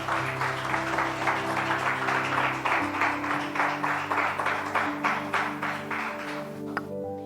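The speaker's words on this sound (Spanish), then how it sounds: "Un aplauso al Señor" A church congregation claps during a Spanish-language Christian sermon, a rhythmic, even clapping over a sustained organ or keyboard chord, fairly soft and fading slightly toward the end.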